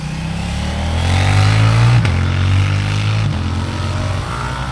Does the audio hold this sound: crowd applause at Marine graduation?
no